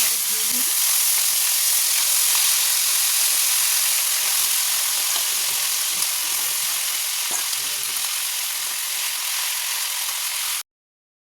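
Crab pieces seasoned with turmeric and salt fry in hot oil, giving a loud, dense, continuous sizzle close up that runs unbroken until it stops abruptly.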